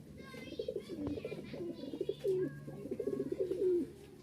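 Rajshahi Giribaj high-flying pigeons coo in a steady run of soft, rolling calls, near and fairly quiet, with overlapping voices from several birds.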